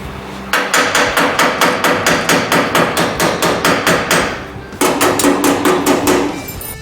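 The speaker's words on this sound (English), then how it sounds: "Hold the panel under tension and do the hammering." Steady, rapid hammer blows ring out on a car body panel held under tension, a loud even rhythm of sharp metallic strikes on sheet metal with a brief pause midway before the pounding resumes.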